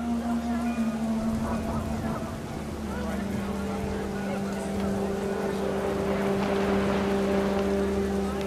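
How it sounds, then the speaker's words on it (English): Steady heavy rain pours down in the video game What Remains of Edith Finch, a dense hiss with low droning tones underneath and some voices or bird-like calls mixed in. "Rain came down in buckets then,"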